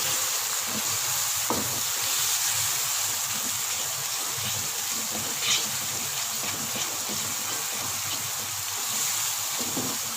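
Spices and tomatoes fry steadily in oil for dal chana, coriander, red chilli, salt and turmeric powders in the pan, giving a continuous close sizzle with a few faint scrapes and no voice.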